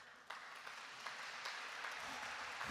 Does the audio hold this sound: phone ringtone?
no